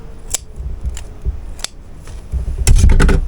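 Scissors snip through embroidery thread on a punch-needle piece, several sharp close clicks spread across the moment, the last cluster louder and denser.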